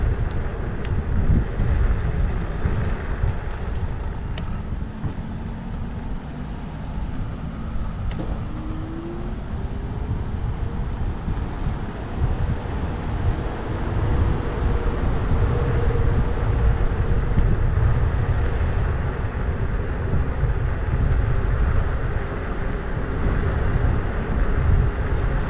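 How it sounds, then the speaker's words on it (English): Tires of an Ausom electric scooter rolling along, a continuous low rumbling road noise with wind buffeting on the microphone, steady and close throughout. "Can't hear anything other than the tires."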